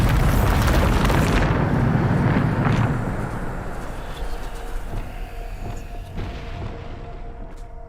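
A Bombarda spell explosion in the Hogwarts Legacy video game, a loud rumbling blast at the start that fades into a debris-filled decay with faint magical chimes afterward.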